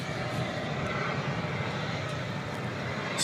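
A Spirit Airlines Airbus A320neo jet at DFW airport at night gives a steady, broad engine roar that fills the air, heard from a moderate distance with no break.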